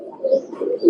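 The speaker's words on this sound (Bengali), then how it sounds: "কবুতর" Oman Teddy bloodline pigeons coo softly and continuously nearby, low rolling coos with a brief higher chirp mixed in, no talking.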